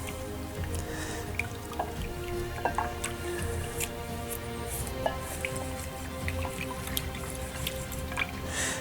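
Water sloshes and drips softly while a plastic part for a model steam freighter is scrubbed with a brush in it, with small wet squishes and light taps, close and quiet.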